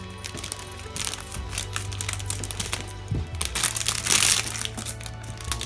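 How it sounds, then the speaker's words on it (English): Scissors cutting open the plastic packaging of a soft squishy toy, close crackling and crinkling snips over several seconds with a louder burst near the end, no speech. "Brought my scissors for this one."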